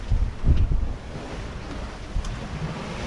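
Wind rushing and waves washing against a sailboat at sea on a beam reach in 16 knots of wind, a steady roar with a few heavier low surges.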